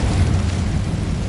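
Incendio fire spell cast in the Hogwarts Legacy video game, a sustained low whooshing roar of flame that fills the short moment at steady loudness, with no talk over it.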